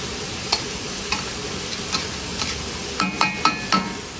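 Sinampalukan cooking in a pan with tamarind leaves, giving a continuous oily sizzle under a run of sharp utensil scrapes and clanks as the dish is stirred, more frequent near the end.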